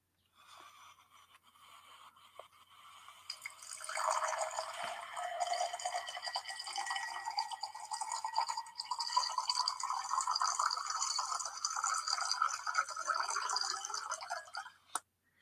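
A drink poured into a glass, with a quiet trickle at first and then a steady, bright stream that continues for about ten seconds before stopping with a small clink.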